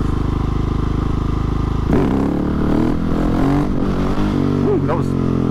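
A Husqvarna 701 Supermoto motorcycle holds a loud, steady engine drone, then revs and surges unevenly as it wheelies, with engine pitch rising and falling and wind buffeting close by.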